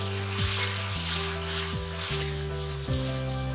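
Tomatoes go into beef keema with shimla mirch in a hot pan, raising a steady, close sizzle with stirring scrapes throughout.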